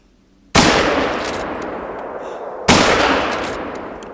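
Two loud rifle shots from theHunter: Call of the Wild hunting game, each a sharp crack with a long rolling echo tail, about two seconds apart, with no talking.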